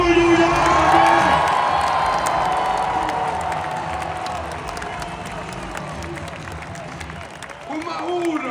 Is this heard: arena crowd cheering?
yes